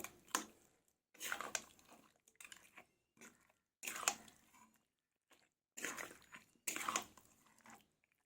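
Raw mutton coated with mustard oil and a few spices is worked over with a metal spatula, giving close, wet squelching and scraping strokes in short irregular bursts separated by brief quiet gaps.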